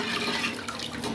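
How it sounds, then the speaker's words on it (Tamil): Water pours steadily into a pot of anchovy fish curry, a continuous close splashing trickle over about a second with no talk. "குழம்பு உங்களுக்கு எவ்வளோ வேணுமோ அந்த அளவுக்கு தண்ணி ஆட் பண்ணிக்கோங்க"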